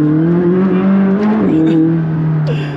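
A McLaren 600LT engine drones steadily with rising and falling revs while drifting, a sustained mechanical roar up close with a brief tonal sweep near the end.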